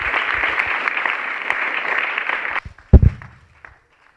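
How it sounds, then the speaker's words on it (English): Applause from the audience at an International Youth Day debate fills the first two and a half seconds as a dense, steady clatter of many hands, then breaks off into a few scattered claps and a couple of louder thumps before falling quiet. "Please, let's give them another round of applause."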